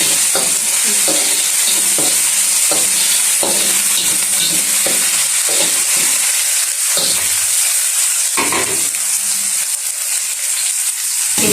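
Curry leaves sautéing in a hot pan for pumpkin perattal give a loud, steady oily sizzle and hiss, broken by regular scraping stirs with a spatula. No one speaks.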